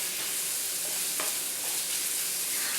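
Onion strips fry in a pan for a savory mushroom breakfast, giving a steady, even hiss of sizzling oil with a light stir scrape partway through and no voices.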